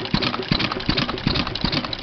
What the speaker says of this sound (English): throttle governed side shaft engine.